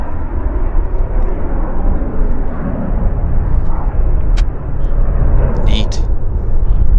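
A regional jet rolls down the runway for takeoff at Vancouver airport, a loud, continuous low roar of engines heard from a distance that holds steady with a few brief higher-pitched chirps near the end while a commentator talks over it.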